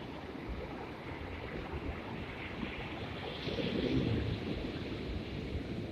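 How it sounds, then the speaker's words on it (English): Big ocean waves break and rumble steadily at Crystal Cove during a high surf advisory, a continuous wash of surf with wind noise on the microphone and a swell of heavier crashing midway, no voices. "the waves are building here on Crystal Cove"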